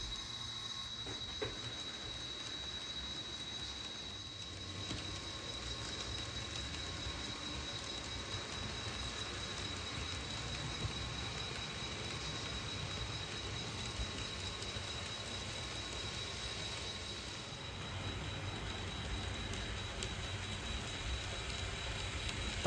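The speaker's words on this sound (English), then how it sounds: "The westbound Angelo rounds the bend on its approach into the city of Stephenville and eases to its stop at Stephenville Passenger Depot." A Santa Fe passenger train rounds a bend approaching the Stephenville passenger depot, a steady distant rumble of rolling wheels with faint squeal, holding evenly throughout and swelling slightly near the end, no voices.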